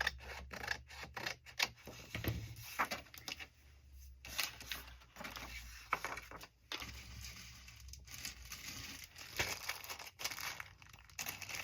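Scissors trim a white edge off a vintage Dennison paper label glued onto a journal page: a quiet, close series of soft snips and light paper crinkling, with no talk.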